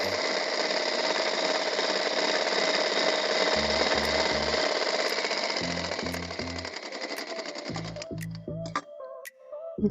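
Sewing machine stitching a blouse, a steady close mechanical whir running continuously with repeated low thumping pulses in short clusters toward the end.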